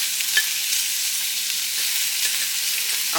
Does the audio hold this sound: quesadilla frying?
yes